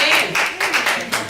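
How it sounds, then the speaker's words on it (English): A short stretch of rhythmic clapping comes from a crowd, about five or six beats in quick succession, close and fairly loud. "yes, you can clap."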